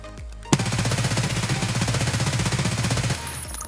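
An MP7 submachine gun in Escape From Tarkov fires a sustained full-auto burst of about two and a half seconds, loud, close and rapid, with a sharp first shot and a clean cutoff.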